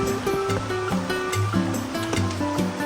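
A small natural spring of water flows in a continuous rushing, gurgling wash, close and steady with no pauses.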